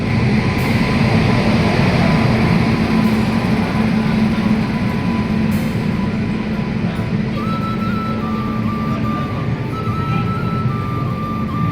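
Train pulling into a railway station, a loud continuous rumble and rolling roar close by with a faint tonal whine joining partway through.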